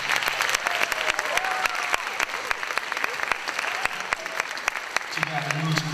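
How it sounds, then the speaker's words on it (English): Audience at a student award ceremony gives a round of applause for the community, crisp hand claps in a steady patter that fades as a speaking voice returns at the end. "So a quick round of applause for the community."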